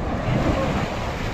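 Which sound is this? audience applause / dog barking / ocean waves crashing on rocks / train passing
ocean waves crashing on rocks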